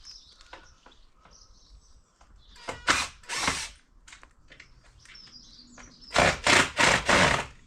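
A power drill whirs in several short bursts while removing screws from a uPVC window frame, two early and three in quick succession later, with birds chirping in the background between them.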